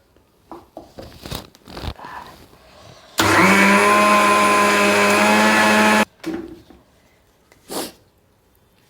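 A kitchen mixer grinder grinds sesame flour with chilli powder. It gives a loud, steady whirring roar for about three seconds, framed before and after by quieter clatter and handling sounds.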